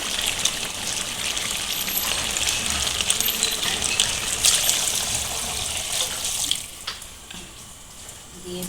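Hot water pours steadily into a pot of mutton and potato curry, a continuous hissing splash that tapers off near the end, close and alone without speech.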